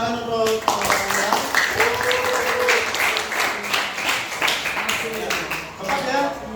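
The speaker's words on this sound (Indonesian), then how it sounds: "tepuk tangan untuk teman-teman" Classmates in a mathematics class clap for their peers, a scattered burst of claps with voices talking over it throughout.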